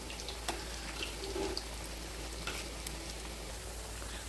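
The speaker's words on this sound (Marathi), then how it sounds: "बारीक गॅसवरतीच तळून घ्यायच्या आहेत, जेणेकरून छान खरपूस होतात" Coriander fritters (kothimbir vadi) shallow-frying over a low flame give a soft, steady sizzle with faint crackles, quiet and continuous with no one talking.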